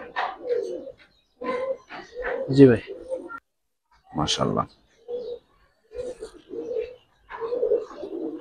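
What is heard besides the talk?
Giribaz pigeons cooing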